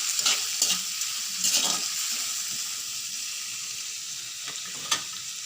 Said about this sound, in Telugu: అల్లం వెల్లుల్లి పేస్ట్ అన్నీ వేసి బాగా ఫ్రై చేసుకోవాలండి.